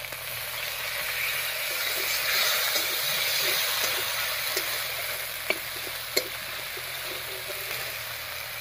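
Spice masala cooking down with a splash of water in a pan for a tela kochu leaf dish, a steady soft sizzle and hiss with a few sharp spoon clicks against the pan near the end, no talking.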